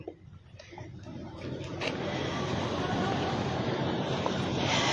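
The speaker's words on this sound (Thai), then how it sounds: "โอ้อยู่ริมแม่น้ำนี่พามาชมวิวกัน" Wind and moving water along a riverside, a broad steady rush that builds from quieter handling noise to a loud, continuous roar buffeting the microphone.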